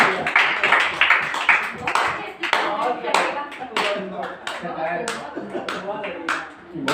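An audience at a mushaira poetry gathering claps for the lyricist, with sharp, uneven rhythmic hand claps rising and falling while someone speaks loudly over them.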